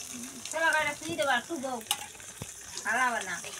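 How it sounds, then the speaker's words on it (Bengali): Egg for an omelette fries in a pan with a constant sizzle beneath voices talking over it, plus an occasional clink of a spatula. "এই যে ডিমটা দিয়ে দিয়েছে।"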